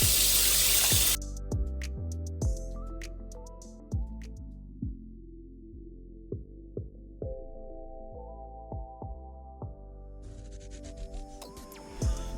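Cold tap water runs into a sink to rinse pork spare ribs. A brief burst of running water gives way to ringing drips and splashes, then the tap runs again near the end.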